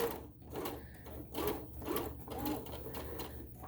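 A sewing machine runs close up stitching a tote bag seam, its motor humming in short pulsing bursts with a rapid mechanical needle patter, fairly quiet with no speech.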